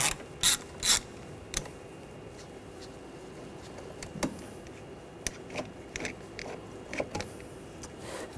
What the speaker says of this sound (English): Using a T25 socket,